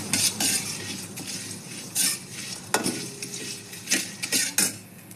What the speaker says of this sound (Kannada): ನೋಡಿ, ಈಗ ಮಸಾಲೆ ಹುರಿದಾಗಿದೆ